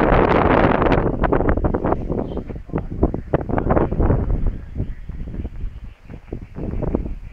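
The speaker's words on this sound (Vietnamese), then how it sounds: "gió rất mạnh luôn" Strong gusting wind buffets the microphone while a kite is flown outdoors, a loud continuous roar with irregular surges and rustling bursts throughout, no talking.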